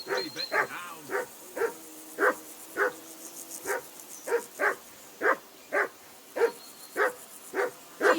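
Dog barking repeatedly in Kingdom Come: Deliverance II, a steady run of sharp, close barks at roughly half-second to one-second intervals with a few whimpering yips early on.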